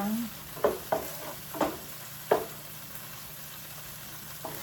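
Tomatoes are sautéed and mashed in a pan for fish binagoongan, a handful of spaced spoon scrapes and stirs over a faint, soft sizzle.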